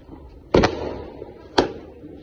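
Firecrackers bursting during Choti Diwali celebrations outdoors, two sharp loud bangs about a second apart, each with a short echoing tail.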